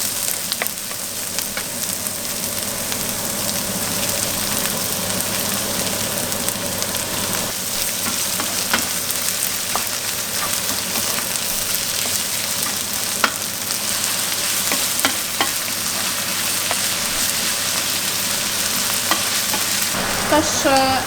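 Meat and onions frying in a pan for stuffed hazelnut-leaf yaprak, a dense continuous sizzle with steady scraping and stirring strokes, close and loud throughout, without speech.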